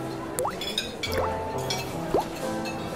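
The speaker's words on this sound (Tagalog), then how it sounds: "patakan mo muna yung dila mo ng Quantum Plus" Drops of Quantum Plus liquid fall from a dropper onto a tongue, giving a few small wet plinks spaced apart over a busy, steady background of dramatic ambience.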